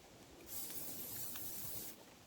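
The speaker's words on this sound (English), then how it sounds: "Can I pinch a little bit of your spray, Graham?" A spray can released beside a campfire gives one steady hiss lasting about a second and a half, close and fairly loud against quiet outdoor background.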